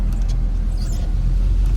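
Steady rushing wind and road rumble inside a 2001 BMW M Roadster with S54 engine, driven with side windows down and wind deflector off; loud, continuous broadband noise with no talk.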